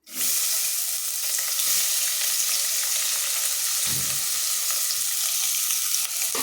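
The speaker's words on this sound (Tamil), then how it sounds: "ஒரு பெரிய வெங்காயம் நறுக்கி வச்சுருக்கேன் அதை சேர்த்துக்கிறேன்" Chopped onion frying in hot oil and ghee with bay leaf and cinnamon for a Chettinad-style mushroom biryani, a loud steady sizzle close by throughout, with brief stirring, and no talk.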